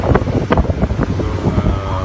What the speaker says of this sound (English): We're here in the water taxi in Mazatlan.